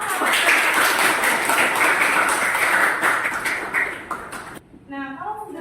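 A classroom group claps together in a steady, dense burst of applause that fills the room for several seconds, then cuts off abruptly as a voice begins speaking.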